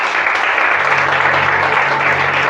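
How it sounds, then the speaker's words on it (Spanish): A church congregation applauds, a dense steady clapping that fills the whole moment loudly and evenly. "Denle un aplauso a Dios por eso."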